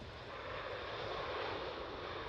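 An SAS Bombardier CRJ regional jet passes at Amsterdam Schiphol, a soft, even, broadband jet roar heard from a distance with no voices.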